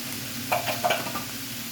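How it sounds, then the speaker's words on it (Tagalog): Shredded chicken sizzles as it is stirred and sautéed in a pan, a steady close frying hiss broken by a few brief scraping stir strokes. "And then we're just gonna saute again."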